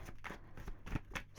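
Tarot cards are shuffled by hand in a few quick riffling bursts, close up and fairly soft, with short pauses between each pass and no talking.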